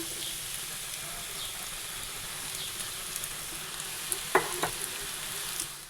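Jackfruit fries with spices in a hot pan, giving a steady close sizzle with soft stirring clicks and a couple of sharper scrapes near the end.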